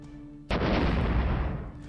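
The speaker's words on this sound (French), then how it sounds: "Les canons crachèrent leurs boulets explosifs sur le méca" A sudden loud blast of cannons firing explosive cannonballs erupts after a short quiet hum, then rumbles and slowly fades into a long roaring decay.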